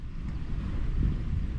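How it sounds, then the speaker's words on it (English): Strong wind gusts on a lake shore buffet the microphone in a steady low roar that swells slightly midway, loud and with no other sound. "Super windy."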